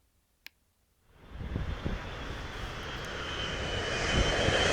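An airplane powers up near the end of the runway at Los Angeles International Airport, starting after a brief click and quiet, then swelling into a loud, steady engine roar that keeps building.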